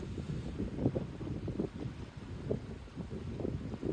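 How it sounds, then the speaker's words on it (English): Wind buffets a microphone outdoors in low, rumbling gusts that rise and fall continuously, with no other clear sounds. "Apologies if you can hear a lot of wind,"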